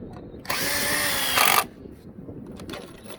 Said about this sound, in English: So I'm just going to hold this up here and run the screws